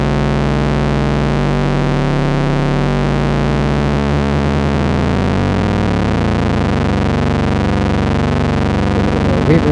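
A loud, sustained ARP 2600 synthesizer tone with shifting, metallic oscillator FM overtones that warble and sweep, dense and continuous throughout.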